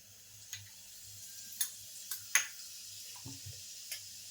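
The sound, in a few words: cumin seeds crackling in hot oil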